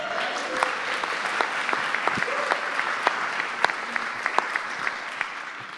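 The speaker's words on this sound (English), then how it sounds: "round of applause, please, for Mr. Nick Williams." A full round of audience applause fills a community gathering on compassionate care, welcoming a guest speaker; dense, steady clapping from many hands runs throughout at moderate loudness, with no talk over it.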